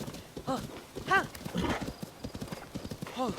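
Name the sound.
horse hooves clip-clopping in the video game Zelda: Tears of the Kingdom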